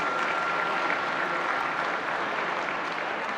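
An audience at the opening session of a forum in Lisbon applauds, a dense, even wash of clapping from many hands that holds steady throughout with no voices on top.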